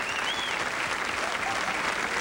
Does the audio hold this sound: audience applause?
yes